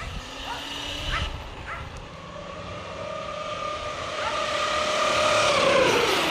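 An Arrma Kraton 8s RC car on a 24T pinion makes a speed-run pass, its whining motor rising in pitch and growing steadily louder as it races in closer over steady outdoor background noise.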